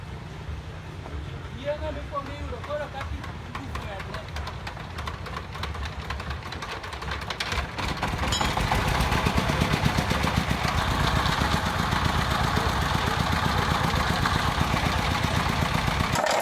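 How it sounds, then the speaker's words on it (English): A small engine driving a ball mill starts up at a small-scale gold mine in Kenya, rising at once into a loud, steady, rhythmic chugging drone that carries to the end, with speech over the quieter opening. "This guy just started up his ball mill."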